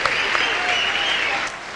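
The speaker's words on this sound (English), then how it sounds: "they both deserve a round of applause of recognition" Crowd at ringside of a women's boxing bout between Christy Martin and Sumya Anani applauding after the fight, a loud, continuous roar of clapping that stays even before easing slightly at the end.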